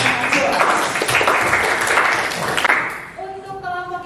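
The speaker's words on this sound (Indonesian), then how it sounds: "Sekali lagi beri tepuk tangan untuk 2 kelompok yang sudah berpresentasi." A classroom applauding student groups after their presentations, dense clapping from many hands that fades after about three seconds into a steady tone.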